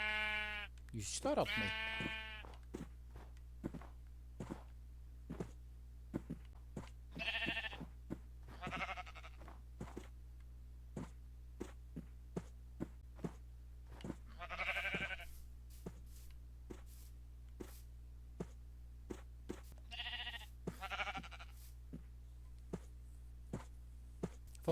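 Several blocky sheep bleat in Minecraft in a snowy setting, wavering cries spaced out across the stretch, mid-distance, with soft footstep clicks in between and a person talking briefly.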